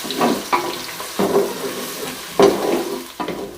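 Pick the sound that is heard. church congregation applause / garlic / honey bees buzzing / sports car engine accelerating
garlic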